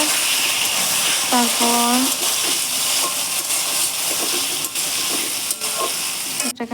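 Watermelon rind frying in a pan gives a steady oily sizzle and hiss while being stirred, with a voice speaking briefly over it.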